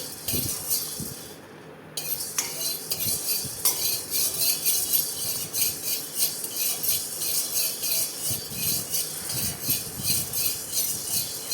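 Spices dry-roasting in a pan for black pepper chicken, heard as repeated light clinks and scrapes of a utensil stirring against the metal, close and steady over a faint background hiss.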